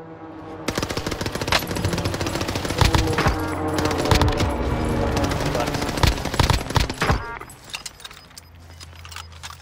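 Call of Duty Warzone gunfire: rapid automatic bursts and single shots crack close and loud in dense clusters, then thin out into a few scattered reports near the end, with players talking over the action.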